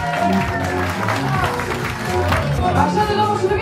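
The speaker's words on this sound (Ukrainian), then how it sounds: "Ваші оплески!" Wedding guests in a Ukrainian village clap and cheer at a reception, a steady dense wash of applause mixed with crowd chatter and a voice or two talking over it throughout.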